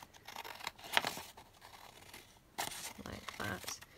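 Scissors snip through a long vintage book page, a few crisp cuts and paper rustles at close range, with soft background noise between the sharper bursts.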